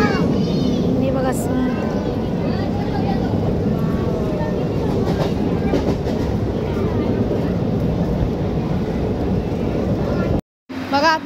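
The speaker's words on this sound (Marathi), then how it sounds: "बघा आता आम्ही ट्रेनमधून उतरलोय।" A train rumbles continuously on rails with a steady, loud rolling roar, while people talk over it, including a voice; the sound cuts out briefly near the end before resuming.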